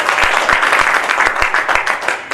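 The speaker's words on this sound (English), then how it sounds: "Can you please give another round of applause?" Applause from a crowd at a prize-giving for a football cup, dense overlapping claps with a few sharper individual claps standing out, continuous throughout.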